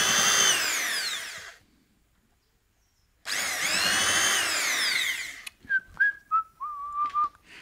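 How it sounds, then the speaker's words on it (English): A power drill drives self-countersinking screws into the wooden box of a 10-frame Langstroth beehive in two loud whining bursts, followed by short squeaky rising tones near the end. "Right, so we'll just stick the screw in here."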